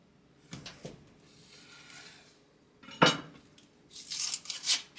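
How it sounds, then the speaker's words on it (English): Knife cutting into a block of butter in a kitchen, a few scraping and clinking strokes of blade against dish and surface, moderately close, with no talking. "Next thing I am going to do is cut into my butter."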